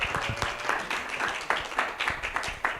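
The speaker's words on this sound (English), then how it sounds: "give him a round of applause" An audience at a convention in Philadelphia applauds, giving a brief burst of dense, steady clapping from many hands that fills the room without any talk over it.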